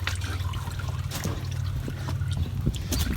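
Engine oil trickling and dribbling steadily from the drain on a new Kubota tractor, a continuous close liquid pour over a low hum, with a few faint clinks.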